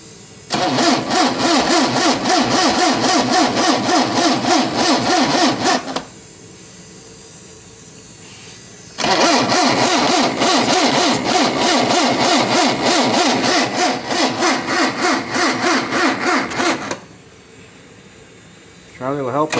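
An engine cranks after a fuel pump replacement in two long, loud, rhythmic bursts of starter churning, each lasting several seconds and separated by a quiet pause. It never catches, and a third attempt begins at the very end.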